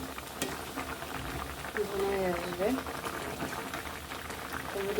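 Oil-free vegetable curry boils in a pot as the water reduces, a soft continuous bubbling and gentle simmer heard up close and fairly quiet, with a faint voice partway through.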